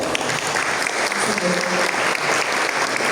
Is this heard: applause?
yes